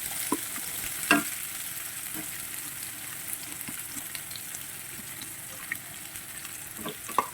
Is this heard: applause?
no